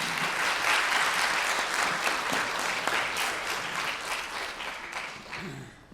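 A convention audience at a Paris games show panel with two actresses applauds warmly, dense sustained clapping that fades out toward the end.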